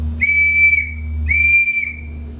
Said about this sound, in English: If you just blow into it, it's going to sound like a regular old whistle.